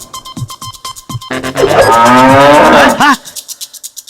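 A bull lowing with one long, loud, full-throated moo lasting over a second, close to the microphone, with lighter rhythmic tapping sounds before and after it.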